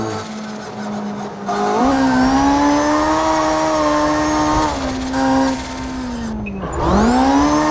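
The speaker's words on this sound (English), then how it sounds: "On the St. Petersburg track. Gonna do a little goofing around here." Engine of a BMW race car in the CarX racing game on the St. Petersburg track, a loud steady drone whose pitch rises and dips through shifts and throttle changes, with brief tire noise, and no talk over it.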